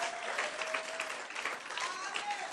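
A church congregation applauding and cheering in praise of Jesus, dense continuous clapping with voices calling out and a few whistles, loud and close throughout, with talking mixed in.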